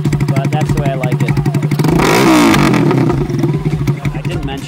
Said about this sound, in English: So this exhaust is quite loud